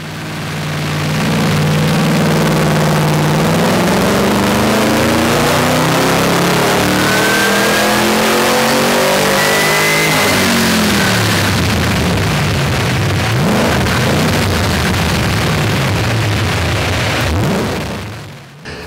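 Supercharged Chevrolet Camaro ZL1 on a dyno, engine loud and continuous as it revs up steadily through the gears for a long pull, then cuts off abruptly at the end.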